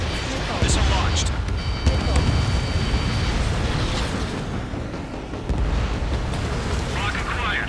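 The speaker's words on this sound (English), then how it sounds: "Missile launched." Missiles launch and explode in the Ace Combat 7 flight game, dense rumbling blasts and roaring bursts over jet noise, with a steady lock-on tone and radio voice chatter mixed in.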